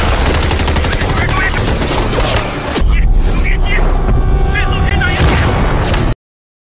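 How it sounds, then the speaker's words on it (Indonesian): Rapid gunfire from a sniper action film fight, bursts of automatic shots and booms crackling loud and close, with a voice talking over the fire. "Azong yang ditugaskan melakukan pengawalan terhadap Howard segera melakukan tembakan balasan."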